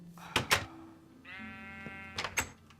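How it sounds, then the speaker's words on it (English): A sheep in Minecraft lets out a single wavering bleat between sharp clicks and thuds of game activity, heard clearly with no talking. "That's his pet sheep."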